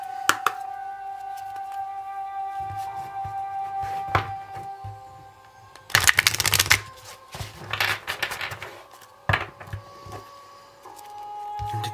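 Tarot cards being shuffled by hand close up, with bursts of crisp riffling and sliding card noise between softer handling clicks, uneven in rhythm and fairly quiet overall.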